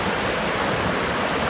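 A riverside stream flows past a campsite at Sari Ater, Subang, a loud, close, continuous rushing wash of water with no voices over it.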